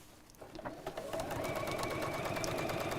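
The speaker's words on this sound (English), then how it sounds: "So open out the square bit and sew straight down." A sewing machine stitches down through fabric at the corners of a small box bag, going slowly over a lumpy middle. It starts softly, then settles into a fast, steady mechanical whir that sounds close and carries on to the end.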